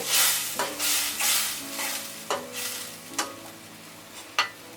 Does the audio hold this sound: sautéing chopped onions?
yes